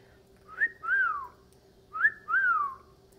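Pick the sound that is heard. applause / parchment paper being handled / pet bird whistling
pet bird whistling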